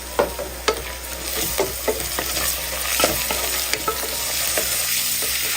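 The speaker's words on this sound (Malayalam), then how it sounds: "മല്ലിയില ഇതുപോലെ നമ്മൾ വഴറ്റിയെടുത്താൽ മാത്രമേ നല്ല ടേസ്റ്റ് ഉണ്ടാവുള്ളൂ" Coriander leaves sautéed with crushed ginger and garlic in a pan sizzle steadily, with a spoon stirring and scraping in irregular clicks, close and alone without talk.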